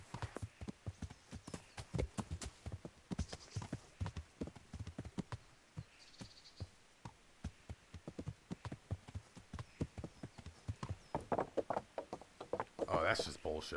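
Horse hooves clip-clop in an irregular walking rhythm in the video game Kingdom Come Deliverance, quiet and close, occasionally bunching into quicker steps.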